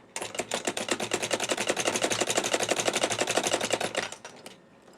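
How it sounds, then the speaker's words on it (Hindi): A sewing machine runs steadily for about four seconds as it stitches folded fabric for a baby girl's frock, a fast, even, close mechanical chatter that stops abruptly. "अब इसी तरह से मैं कपड़ा फोल्ड करती जाऊंगी और स्टिचिंग करती जाऊंगी।"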